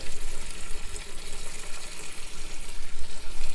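Old coolant squirts and gushes from a Spec Miata radiator in a continuous, surging liquid rush, close and fairly loud, with no talking.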